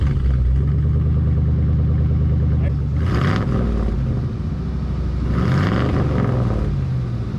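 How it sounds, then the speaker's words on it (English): A used Chevy truck engine idles steadily after starting, a loud continuous mid-pitched rumble with a couple of brief rising revs partway through. "Took it for a quick test drive, fired it up here."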